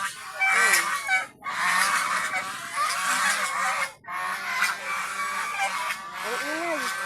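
Several large geese honk loudly and almost continuously at close range, with brief pauses, while a person talks over them.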